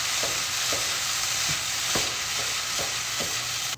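Tomato paste sizzles steadily in a hot pan for shepherd's pie while a utensil scrapes and stirs it at regular intervals, close and continuous before cutting off abruptly.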